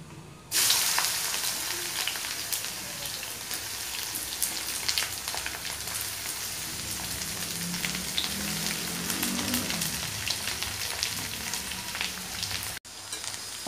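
Bitter gourd and okra hit hot oil with browned fenugreek seeds and start sizzling loudly right away. A dense, crackling fry continues close up, with faint stirring clatter and no talking.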